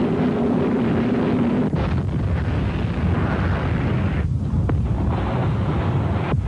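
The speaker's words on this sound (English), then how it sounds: "The Exocet missile rips into the hull and the ship bursts into flames." An Exocet missile strikes a ship's hull, heard as a deep, sustained roaring rumble with wind-like noise and a few sharp bursts, loud and continuous with no voices.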